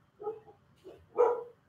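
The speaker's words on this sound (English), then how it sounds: "I'm sorry if you can hear the dogs." Dogs bark indoors in the background, with two short barks followed by a louder third one, faint to moderate and heard alone.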